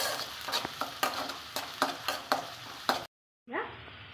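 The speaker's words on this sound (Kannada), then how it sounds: "ಎಣ್ಣೆ ಕಾದ ನಂತರ ಈರುಳ್ಳಿ ಹಾಕಿ ಹುರ್ಕೊಳ್ಬೇಕು" Onions fry in hot oil as a spoon stirs and taps the pan in a steady rhythm over continuous crackling sizzle, close up; a brief silence follows before the frying resumes more quietly.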